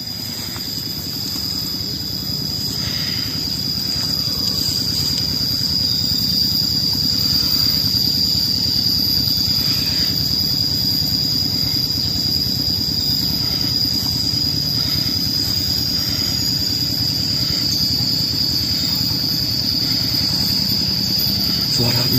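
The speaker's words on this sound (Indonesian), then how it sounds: "Oh itu traktor. Traktor sawah kayaknya." A steady low engine drone of a tractor working a rice field runs throughout, rumbling and constant, with no clear speech over it.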